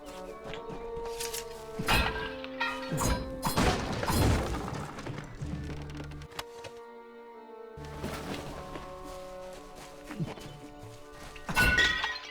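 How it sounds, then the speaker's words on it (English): Objects smashing and shattering in the Kingdoms of Amalur video game, a series of loud breaking crashes and heavy thunks spread irregularly over a quiet background, with a pause in the middle before more impacts. "I just be smashing shit."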